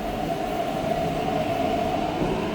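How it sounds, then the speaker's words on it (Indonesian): A train pulls slowly into Lo Wu station, a loud steady rumble with a sustained tonal whine filling the platform throughout, with no talk. "Nah ini dia nih keretanya sudah datang. Dia pelan-pelan ya"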